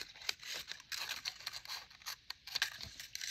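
Scissors snip out a fabric circle for a vintage Christmas angel ornament, giving a series of quiet, crisp close-up cuts and brief rustles at an irregular pace.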